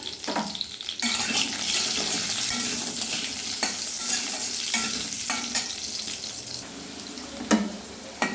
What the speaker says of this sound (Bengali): তেলটা গরম হয়ে আসলে প্রথমে আমি আলুগুলো ভেজে নেব।